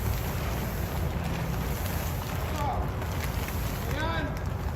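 Gusty wind roars steadily across the microphone outdoors as plastic sheeting is unrolled, a dense broadband rush with no clear plastic rustle standing out.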